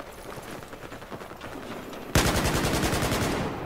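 Sustained automatic rifle fire from an AK-12 in Battlefield 4 on Xbox One, a steady rattle of rapid shots that jumps louder and denser partway through, with no talking.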